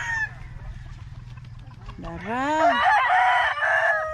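At a market in Negros, chickens cluck low and steady before a rooster lets out a loud, drawn-out crow close by, joined by honking fowl, while a voice speaks briefly.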